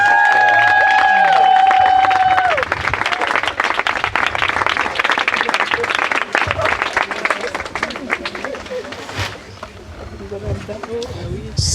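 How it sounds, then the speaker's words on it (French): Sustained clapping from a congregation at a wedding ceremony, steady and dense throughout, with a few voices and tones early on before the applause fills in. "Vous pouvez les applaudir."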